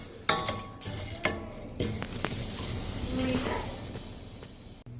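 Chana dal, coconut, green chillies, tomato and onion frying and being stirred in a pan for onion tomato gojju, with a soft steady sizzle under scraping spatula knocks against the metal, close and moderately loud, no talking.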